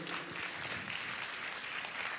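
A church conference audience in Chișinău gives warm, steady applause, a dense wash of clapping filling the whole stretch at close, even loudness.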